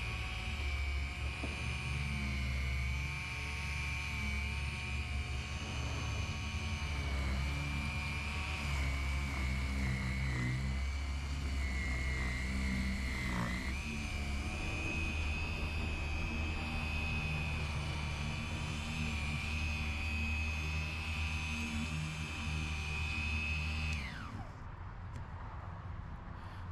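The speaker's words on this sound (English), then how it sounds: "So that's the sound of the polisher" A cheap belt-driven 2.5 lb car polisher runs steadily with a smooth, constant whine and hum that holds for most of the clip, then winds down near the end; no talk.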